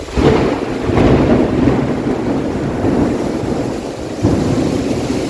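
Steady drizzle hisses all around with low rumbling and gusty noise during a storm beneath an apartment block, fairly loud and constant throughout.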